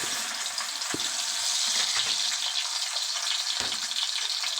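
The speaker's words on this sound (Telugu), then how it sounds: "ఆయిల్ కాగిన తర్వాత ఆయిల్లో వేసి ఫ్రై చేసుకుందాం" Mutton brain fries in hot oil in a pan with a continuous, close hiss and crackle, broken by a few soft knocks from the pan.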